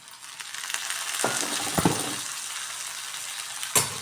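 Tomato and onion fry together for a bitter gourd curry, with a soft, even sizzle broken by a few sharp scrapes and knocks of a utensil against the pan, no one talking.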